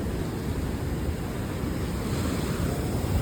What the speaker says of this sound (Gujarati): કેટલા મોજા જોર જોરથી આવે છે